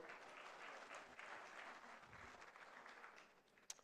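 Conference audience applauding a speaker in a large hall, a continuous wash of clapping from many hands that is fairly faint and distant, tapering slightly toward the end with a sharp knock near the close.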